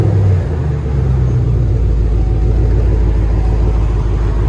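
A Chevy Camaro SS with a Flowmaster Flow FX muffler idles with a loud, deep, steady exhaust rumble, close by and with no voices over it.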